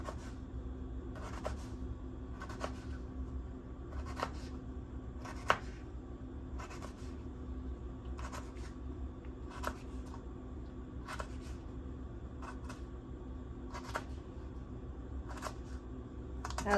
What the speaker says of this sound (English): And then I'm just gonna cut it in small pieces.